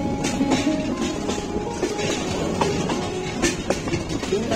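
A passenger train running on rails in northern Bangladesh near Lalmonirhat, heard from on board as a continuous rumbling roar with faint rhythmic wheel clacks throughout.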